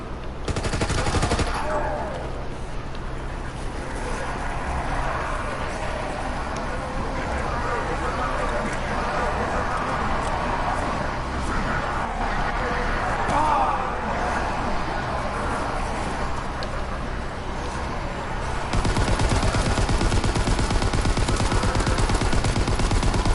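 Continuous gunfire in a World War 2 Zombies video game, sustained rapid automatic bursts at steady loudness throughout, getting denser near the end, with a voice talking over the shooting.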